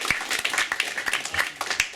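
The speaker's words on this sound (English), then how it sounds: "Applause." Scattered, fairly quiet clapping from a tech meetup audience in New York, with separate claps spaced unevenly through the moment.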